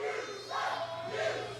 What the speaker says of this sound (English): Crowd letting Will Austin know just what they think of him